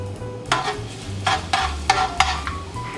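Onions and other ingredients sautéing in a pan, with a soft steady sizzle broken by several sharp scraping stirs at uneven intervals, close and with no voices.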